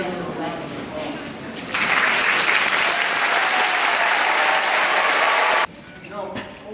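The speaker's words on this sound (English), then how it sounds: "I think you owe each other a round of applause." Applause erupts from new citizens and guests at a U.S. citizenship ceremony, swelling into a loud, sustained burst of clapping that cuts off abruptly, framed by room sound and brief talk before and after.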